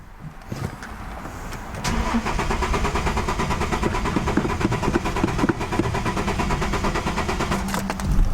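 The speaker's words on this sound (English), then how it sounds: "something is going on right now, which is causing this vehicle not to crank up" A Nissan Xterra engine cranks steadily and loudly up close for several seconds, a rapid rhythmic churning that never catches and settles into running.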